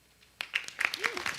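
Scattered applause at a city council meeting, a handful of distinct claps starting abruptly and continuing unevenly in a quiet room, with a brief murmur of voices.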